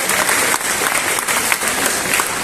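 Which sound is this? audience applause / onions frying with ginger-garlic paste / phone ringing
audience applause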